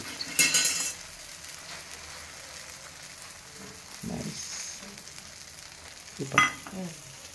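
An oiled flatbread sizzles on a hot pan after it is flipped, a low steady hiss under a couple of short bursts of spatter and a few soft clinks of a utensil; no one speaks.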